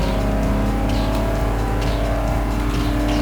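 Engine of a racing car drifting in Need for Speed Underground 2, a loud steady high-revving roar with faint tire squeal, filling the whole stretch without pause.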